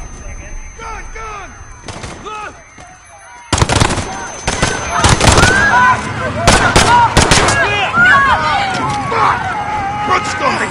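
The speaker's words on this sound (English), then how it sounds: "There's been a detonation at Piccadilly Circus. Shots fired, officers down." Call of Duty: Modern Warfare campaign combat at Piccadilly Circus, London: a sudden loud blast breaks a tense lull, then dense rapid gunfire bursts rattle close by while people shout over the chaos.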